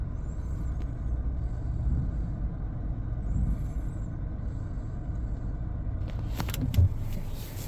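Steady low road rumble from inside a Subaru as it drives along, a constant near drone with a few faint clicks and a small knock toward the end, no voices.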